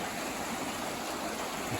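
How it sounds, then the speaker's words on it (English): A river flows beside a roadside field camp, a steady broadband rush of moving water heard close and continuous, with no talk. "And here's the river."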